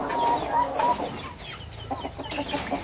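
A sick rooster clucks in short, close bursts, a few separate calls with brief pauses between them against quiet background noise.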